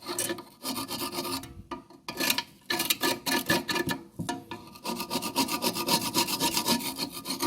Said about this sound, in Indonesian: karat ini harus kita hilangkan guys, kita gosok pakai tatah